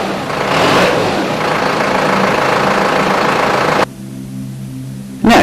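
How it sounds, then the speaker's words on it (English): A Toyota forklift engine drones steadily and loudly, rising briefly early on, then drops to a lower idle hum before surging again at the end. "and the operating sound of the engine."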